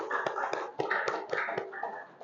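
A classroom audience claps together after a group presentation: a steady patter of hand claps with sharper individual slaps, fairly close and lasting a couple of seconds.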